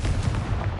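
A Confringo blasting spell explodes in Hogwarts Legacy, a short dense booming burst of low rumble, loud and close, with no talk.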